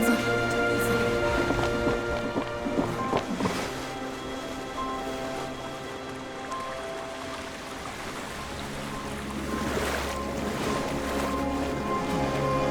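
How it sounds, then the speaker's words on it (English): Rushing, surging water recedes in a video game cutscene, a broad continuous wash with swelling waves layered over sustained musical tones, loud and close throughout. "Water's receding. We didn't dissolve."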